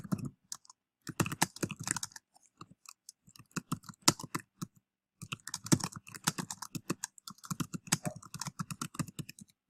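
Someone types on a computer keyboard in quick, irregular bursts of crisp, close keystrokes, with short pauses between runs while setting up an email list.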